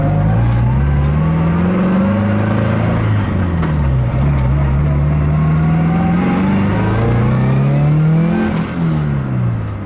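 A turbocharged car engine revs hard on a test drive, its loud, close note rising and falling continuously as it accelerates and eases off, with no talking over it.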